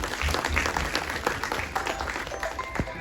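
Audience applause at a film trailer launch event, a dense, continuous wash of clapping from a crowd, fairly loud and steady, with a few louder individual claps near the end.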